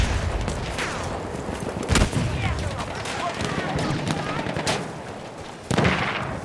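Gunfire in the shooter game Battlefield 1: a steady crackle of distant shots runs throughout, with two sharper, louder blasts near the start and the end.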